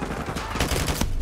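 Automatic gunfire from the player's weapon in Modern Warfare 2 Remastered, in fast repeated loud bursts over a dense game soundscape, with brief speech in the mix.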